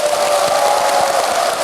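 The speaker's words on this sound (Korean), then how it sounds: "끊임없는 박수에 제가 너무나 감격이 벅차오르네요." An audience in a Buddhist temple hall in Masan gives sustained, dense applause that fills the space evenly for the whole moment, with no pause.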